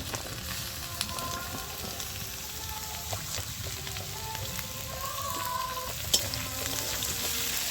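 Potato and eggplant sautéing in a pan with oil, a continuous close crackling sizzle with occasional soft clinks and scrapes of a utensil; no voices.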